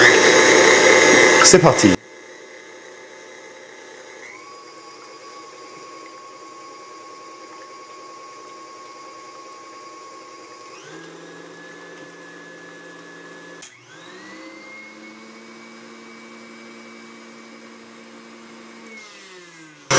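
An electric mixer with whisk attachment whipping egg whites with lemon juice, a steady loud motor whine that shifts pitch partway through and again later. A voice speaks briefly at the start.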